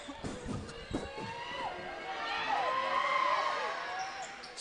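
Loud indoor crowd noise at a men's Big V basketball grand final during free throws, a steady roar of voices swelling in the middle with scattered shouts and low thumps early on.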